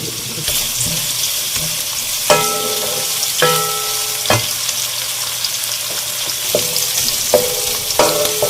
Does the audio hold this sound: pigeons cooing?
no